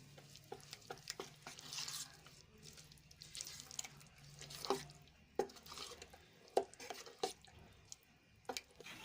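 A spoon stirs spiced dhokla batter seasoned with salt, turmeric and coriander-cumin powder, giving soft irregular scrapes and wet clicks at close range, with brief sharper knocks against the bowl.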